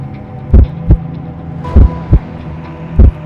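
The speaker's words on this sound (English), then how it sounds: "My heartbeat had started racing." A racing heartbeat effect pulses in loud, deep paired thumps, three double beats in about three seconds over a low hum, close and isolated.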